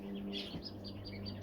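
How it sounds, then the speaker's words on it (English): A star finch sings inside an indoor bird shed, its soft high twittering phrases faint against a steady background hum, with no voices. "next to a starfinch that's singing to him"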